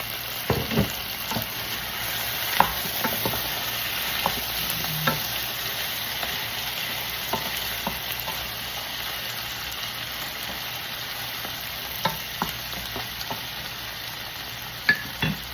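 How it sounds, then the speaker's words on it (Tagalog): Chicken sizzles and fries steadily in a pan with garlic and onion for chicken adobo, a continuous crackling hiss broken by scattered pops and the occasional clink of stirring, with no voices. "So when the garlic and onion like that already, so we're gonna put the chicken."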